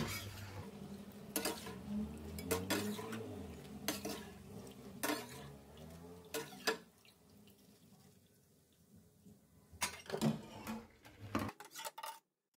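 Caramelised spring rolls are stirred in a frying pan, with repeated sharp clinks and scrapes of a utensil against the pan at irregular intervals over a low sizzle, fairly quiet and close, briefly pausing before a few final knocks.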